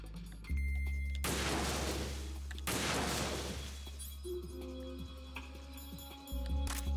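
Video game gunfire roars in two long, dense volleys near the start, then gives way to scattered lighter shots and clinks.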